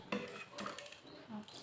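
A spoon clinks against a dish as two spoonfuls of sugar go in. There are a few light, close metallic taps and scrapes, with no talking.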